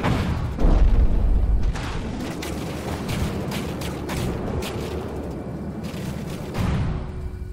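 A vehicle takes an internal explosion in the video game From the Depths, heard as a heavy boom near the start followed by rumbling gunfire and blasts that continue steadily, with another loud swell toward the end.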